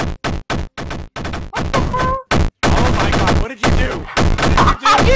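Video game gunfire rattles in abrupt bursts, loud rapid volleys broken by brief silent gaps, then longer sustained firing toward the end.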